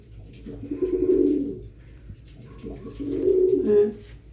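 Pigeons coo nearby in two low, throaty rolling bursts separated by a short pause, with faint background murmur and no clear speech.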